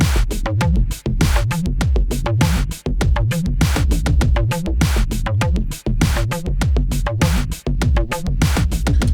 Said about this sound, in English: we've got a kind of breaksy style beat and we've got a bass line over top of that